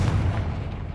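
Confringo fire spell bursting a cluster of spider eggs in Hogwarts Legacy, a loud, booming low-end explosion rumbling steadily through the whole moment with no break.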